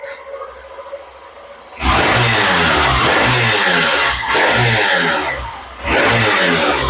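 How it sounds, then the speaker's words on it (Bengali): A Hero Glamour BS-6 motorcycle engine catches after a single kick start and settles into a loud, rhythmic close-up idle with a few throttle blips, after a brief quiet lead-in. "এক কিকে কিন্তু বাইক স্টার্ট"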